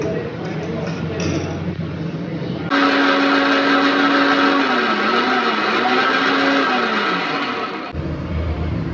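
An electric mixer grinder whirs steadily and loudly for about five seconds while grinding nuts and almonds with saffron milk into a paste. Its motor pitch shifts slightly as the load changes. Talk and kitchen noise come before and after.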